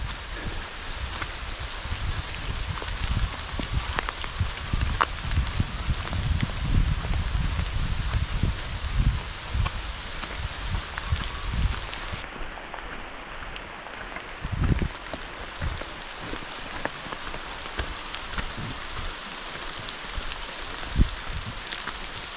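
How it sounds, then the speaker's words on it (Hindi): Steady, dense wash of heavy rain in a forest at night, a continuous broadband hiss with scattered low thumps and rustles, no voices, constant loudness throughout. "बारिश बहुत तेज़ हो रही है अब"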